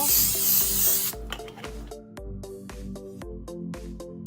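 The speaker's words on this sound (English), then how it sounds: "Coconut oil." Coconut oil is sprayed from a can into meal-prep containers in one loud, close hiss lasting about a second. Rhythmic background music follows.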